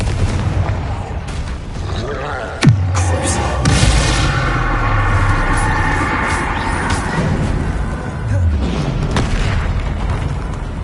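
Confringo and Bombarda explosion spells fire in the video game Hogwarts Legacy, with a sharp boom near the start and heavy rumbling blasts layered over dense, continuous battle noise.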